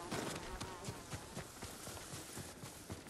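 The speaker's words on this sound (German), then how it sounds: "Diese Hornissennester, ne?" Hornets buzzing around their nests in the video game Ghost of Tsushima, a faint, steady insect drone with soft rhythmic footsteps running underneath.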